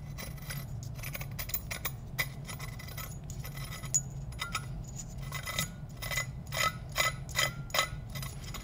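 Blown Audi S4 turbo wheel spun by hand and catching as it turns: close, faint metallic ticking and ratcheting clicks in uneven clusters, growing denser toward the end over a low background hum.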